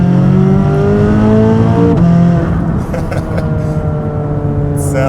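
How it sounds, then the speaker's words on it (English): A Corvette C8 Z06 engine roars loudly up close, then downshifts with a quick blip and a drop in pitch before pulling hard again under acceleration, its harmonics rising as the revs climb. "A downshift to third,"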